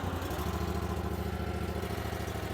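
Rented hydraulic stump grinder with its engine running at a steady idle, a loud continuous low throb with even harmonics throughout and no one talking.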